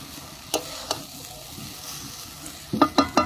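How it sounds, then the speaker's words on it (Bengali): Flattened rice (chira) fries in a pan for a vegetarian poha-style pulao, with a quiet sizzle and sharp spatula scrapes and taps, sparse at first and then a quick cluster at the end. "আমি এইভাবে ভালো করে একটু কিছুক্ষণ ভেজে নেবো চিড়েটা"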